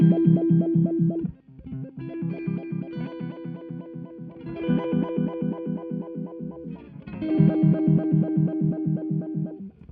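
Single notes run through a Time Dilation V5 pitch-bending effects pedal, played in short repeated phrases with a warbling, detuned, slightly distorted shimmer and a brief gap near the start.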